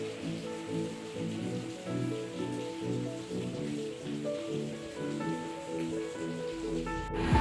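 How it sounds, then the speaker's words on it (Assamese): Heavy rain pours steadily on a surface, a dense continuous patter with a faint rumble underneath, no voices, ending in a brief sharp knock. "এয়া এতিয়া দেখিছেনে খুব বৰষুণ।"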